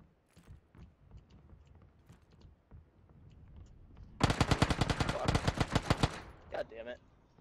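Rapid automatic gunfire in a video game crackles in a dense, loud burst lasting about two seconds, then a few single shots follow, after quieter stretches of faint clicks and game noise.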